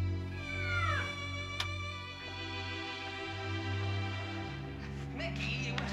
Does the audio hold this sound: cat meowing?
yes